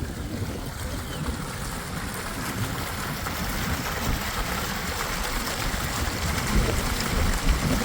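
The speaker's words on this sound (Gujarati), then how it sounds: "વાડીની અંદર અટાણે પાણીની બગડાટી બોલે" Water gushes steadily from a farm pump pipeline, a dense continuous rushing and splashing close by, fed by a double line from two motors, with no voices.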